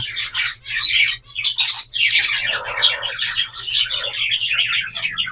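An egg-bound pet bird squawks and chirps loudly and almost without pause, its harsh calls near and dense over a steady low hum.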